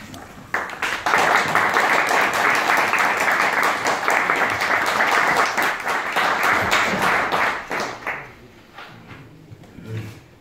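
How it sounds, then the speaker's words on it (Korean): An audience at a church officers' lecture on Honam mission history gives a long burst of loud, dense applause welcoming the guest pastor, sustained for several seconds before thinning into scattered claps and fading out. "강사 목사님 오실 때 큰 박수로 환영하겠습니다."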